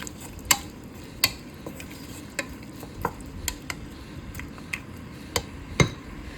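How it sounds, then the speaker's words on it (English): Onions sauteing in ghee with a cinnamon stick, cardamom, cloves and star anise for chicken biryani, a soft steady sizzle under a series of sharp spoon clicks and taps against the pan, with no talking. "And now add onions and saute them nicely."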